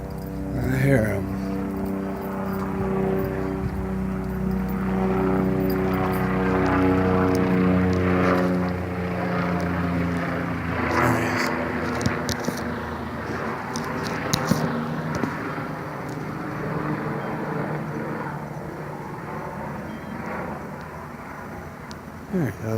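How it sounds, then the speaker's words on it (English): A helicopter flies around overhead, a continuous rumbling drone with a steady low throb that holds for the whole stretch. A voice talks over it. "The helicopter's been flying around for a while now."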